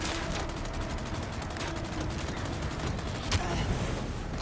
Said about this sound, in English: Shoot the guy with the rocket first